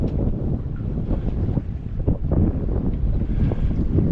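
A sailboat moving fast under sail in brisk wind off Mount Desert Island, Maine, with loud gusty rushing and water noise buffeting the microphone steadily throughout.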